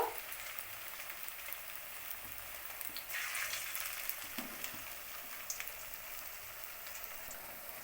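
Semolina and boiled potato snacks fry in hot oil, giving a steady crackling sizzle at a moderate, even level with a few brief louder pops, no talking.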